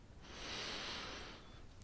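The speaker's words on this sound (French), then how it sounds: "vous inspirerez profondément par le nez et retiendrez votre respiration un instant avant d'expirer doucement par la bouche" A deep, slow inhale through the nose during guided relaxation breathing, a soft airy rush building and fading over about a second and a half, quiet and close with no talking.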